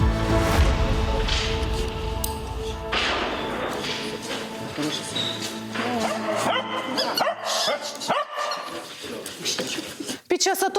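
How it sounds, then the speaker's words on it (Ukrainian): Specially trained therapy dogs at a rehabilitation session for a wounded soldier give off barks, yips and whimpers mixed into dense background sound and talking. "До нас приїжджають колеги із спеціально навченими собаками-терапевтами"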